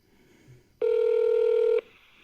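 A phone keypad tone sounds while dialing a podcast voicemail number: one clear, steady electronic beep lasting about a second, close and alone over faint background hiss.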